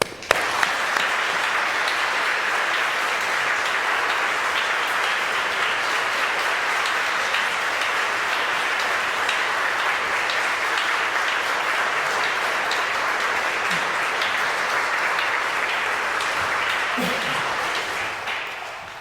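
An audience welcomes Penpa Tsering, Sikyong of the Tibetan administration, with sustained, dense clapping from a sizeable crowd at an Oxford event. The applause holds steady for nearly twenty seconds before thinning at the end.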